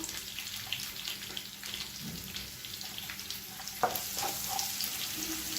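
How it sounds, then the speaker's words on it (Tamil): Sliced large onions fry in oil in a pan, a continuous close sizzle with occasional stirring scrapes and a sharper clatter partway through, no voices. "இதோட ஒரு கைப்பிடி அளவுக்கு பெரிய வெங்காயம் நீளமான நறுக்குனதை சேர்த்துக்கலாம்."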